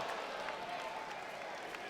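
Basketball crowd at a Dixie State vs. Westminster men's college game applauding and cheering, a steady wash of clapping and crowd noise filling the arena throughout.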